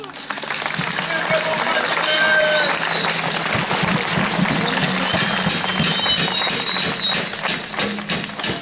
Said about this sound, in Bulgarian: Моля за овации!